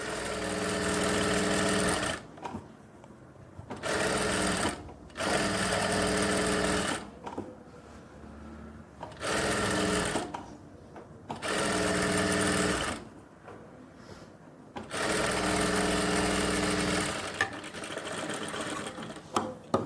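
A sewing machine runs in a series of short, loud bursts of fast whirring stitches with brief pauses between them, seaming the waistband strip onto a pair of women's pants.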